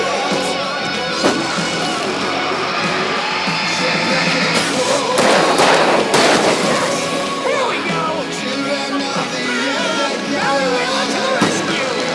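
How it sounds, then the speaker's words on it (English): Fireworks bursting during a night fight in Alan Wake Remastered, a loud continuous barrage of bangs and crackles layered with game effects and shouting voices over several seconds. "I can set off more of the fireworks from here and help you out!"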